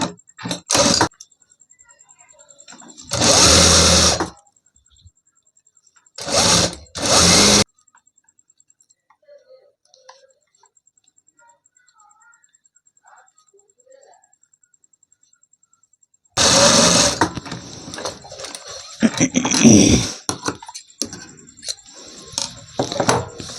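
A sewing machine stitches elastic onto a cowl neck, running in several short loud bursts separated by quiet pauses, then a longer uneven stretch of stitching near the end.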